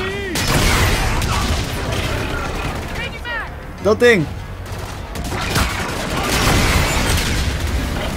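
Explosions and gunfire from the video game Call of Duty: Infinite Warfare, with loud bursts running through the clip and a sharp blast near the middle, under someone talking.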